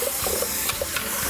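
Tap water runs in a steady, close hiss as dishes are rinsed in a home kitchen while cooking, with faint clinks under the flow and no talk.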